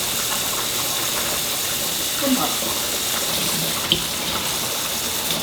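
Food, such as greens for Korean side dishes, is rinsed under a running kitchen tap, making a steady, loud rush of water with a brief splash near the end.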